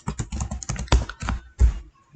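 A Wi-Fi network name is typed on a laptop keyboard: close, crisp keystrokes in an uneven burst, pausing briefly between heavier taps.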